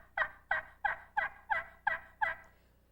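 Slate-over-glass turkey friction call, a Grand National, scratched out in seven evenly spaced yelps, each a sharp mellow chirp with a quick rise and fade, close and clean with no talking.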